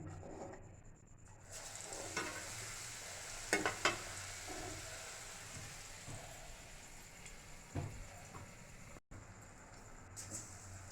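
Pumpkin fritters (kumror beguni) made from rooftop-garden pumpkin fry in hot oil, giving a steady, moderately quiet sizzle with a few brief clicks and scrapes on top and no talk.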